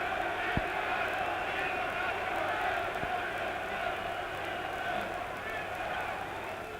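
A huge German crowd at a heavyweight title boxing match between Muhammad Ali and Karl Mildenberger roars steadily and loudly throughout, a dense sustained wash of cheering and crowd noise with an occasional sharp thump.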